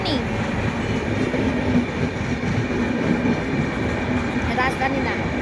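A Rajdhani express train rolls past at a level crossing near Jalpaiguri, with a continuous loud rumble of wheels and carriages and a brief high squeal near the end.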